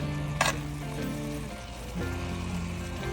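Dry desiccated coconut being stirred into a prawn curry sizzling in a pan, with a steady close frying hiss, a short bright scrape near the start and soft stirring knocks, no talk.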